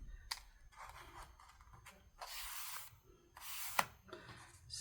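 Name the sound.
scissors cutting the ends of journal paper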